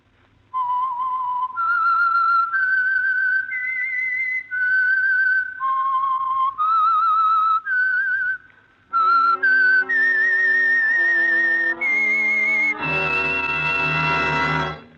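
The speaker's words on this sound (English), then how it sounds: "the signal to listen for is this whistle that identifies the Signal Oil program" A clear, solo whistled melody of sustained notes stepping up and down, the theme of the radio drama The Whistler, ending with a brief swell of orchestral music.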